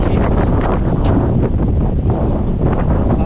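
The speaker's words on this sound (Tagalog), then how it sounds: "Lakas ng hangin." Strong wind roars and buffets the microphone steadily throughout, loud and rumbling with no voices.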